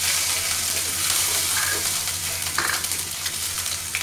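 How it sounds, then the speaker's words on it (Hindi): Ginger garlic paste hitting hot oil in a wok (kadhai), a loud, steady hiss of frying and sizzling with occasional light stirring clinks, close and continuous throughout, no voices. "कढ़ाही में थोड़ा और तेल डाल देंगे, अदरक लहसुन का पेस्ट डाल देंगे"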